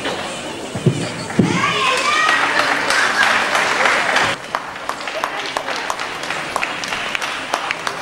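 Audience applause at a classical dance make-up programme with 100 artists, a busy hall of crowd noise and children's voices, then thinner, scattered clapping continuing steadily to the end.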